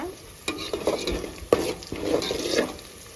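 Onions, green chilies and curry leaves frying in hot oil in a pan for a country chicken curry, a steady close sizzle with a few sharp stirring scrapes and clinks, no talking.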